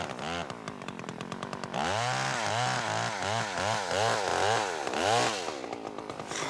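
A chainsaw revs and idles in repeated surges in the snow, its engine pitch rising and falling in quick bursts, loud and close with no talking.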